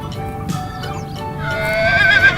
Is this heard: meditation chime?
no